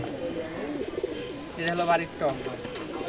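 Rajshahi Giribaz pigeons coo in a few soft, rolling bursts close by, with a voice talking over them.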